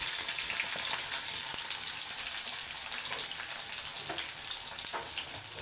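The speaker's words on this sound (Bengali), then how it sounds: "কড়াই চুলাই দিয়ে দিছি পেঁয়াজ দিয়ে দিলাম" Onion and green chili frying in a wok for a bean chorchori, a dense, even sizzle with scattered pops and light crackles, close by and without voices.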